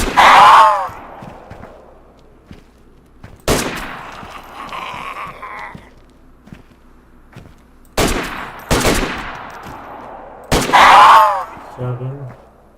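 Gunfire in DayZ on Deer Isle, landing repeated headshots: a few sharp, loud shots spaced out over several seconds, separated by quieter stretches with faint voices and ambient game noise.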